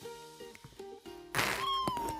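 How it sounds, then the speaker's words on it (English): A newly adopted little female kitten gives a clear, high, drawn-out meow close by, heard over a low background hum. "We have a little kitten. We got a cat."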